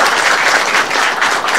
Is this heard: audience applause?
yes